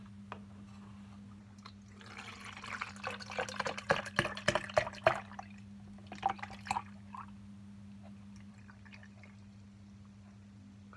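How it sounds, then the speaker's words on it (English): Orange and apple juice poured into a homemade drink, a few seconds of trickling and splashing liquid with scattered drips, fairly quiet over a steady low hum, alone without talk. "So, I open it and pour the rest of the contents in."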